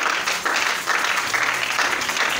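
A church congregation applauds steadily, a dense wash of clapping hands at moderate distance, lasting throughout without pause.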